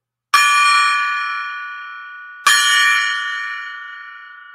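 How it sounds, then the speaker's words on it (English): A gong is struck twice, about two seconds apart, each hit blooming into a loud, bright metallic ring with many overtones that slowly decays and is still sounding when the next strike lands. "as I ring the gong for the final time. And listen to how it resonates after I hit it."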